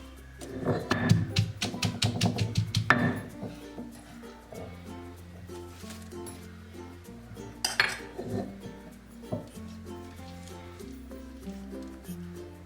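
Garlic and spices are coarsely crushed for a Kerala fish curry (meen mulaku curry): a quick burst of close pounding clinks for a few seconds, then sparser, quieter knocks and clinks.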